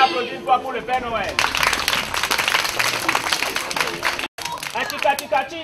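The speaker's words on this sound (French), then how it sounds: "On applaudit une fois pour le Père Noël" A crowd at a Christmas gathering in Godomey applauds Father Christmas, a burst of clapping filling the middle stretch, with voices talking before and after it.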